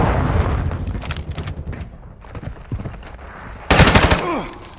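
Rapid automatic gunfire in a Call of Duty: Modern Warfare 2 team deathmatch, loud bursts of shots with booming impacts, a sharp louder volley near the end.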